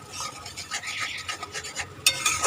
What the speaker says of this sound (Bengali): আবার আমি নাড়তে থাকবো